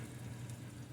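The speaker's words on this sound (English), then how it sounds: "There's the egg and the the" Ham and egg sizzle and bubble in a pan for a country breakfast, a steady, faint, even crackling hiss with no talk.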